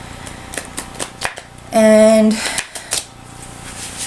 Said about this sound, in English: So I'm just going to shuffle the cards a bit